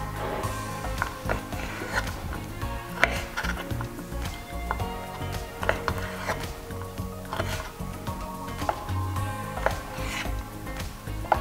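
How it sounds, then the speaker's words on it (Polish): A knife taps repeatedly on a wooden cutting board while chopping pitted dates into quarters, steady light knocks spread across the stretch. "tylko te daktyle pokroimy sobie na kawałki"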